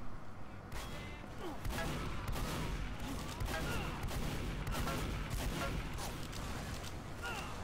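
Gunfire in a competitive video game match, with dense overlapping bursts and sharp shots crackling steadily throughout, fairly loud and continuous amid other game noise.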